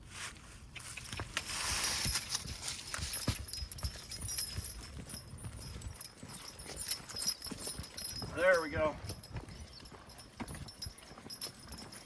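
A Belgian draft horse in early line-driving training steps along outdoors with soft, uneven hoof clops. The steps are mixed with handling noise, rustling and a person talking nearby.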